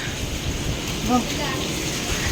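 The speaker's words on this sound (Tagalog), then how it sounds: "Literal na naligo tayo sa ulan." Rain pours down in a dense, steady wash during a storm at People's Park in the Sky, with a brief voice rising faintly under the downpour.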